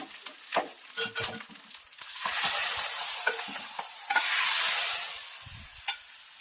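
Curry leaves sizzle in hot tempering oil for a raw mango moong dal, with a steady frying hiss that swells in two loud waves while a spoon clicks and stirs in the pan nearby, no voices.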